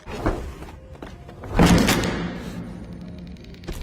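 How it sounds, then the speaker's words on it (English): A heavy door thuds and scrapes as it is forced open in an alien monster movie, a loud impact followed by a rattling creak that fades out. "force the door open, which made a noise"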